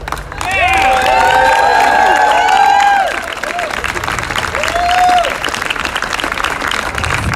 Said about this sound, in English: everybody give it up one more time for John Kiriakou.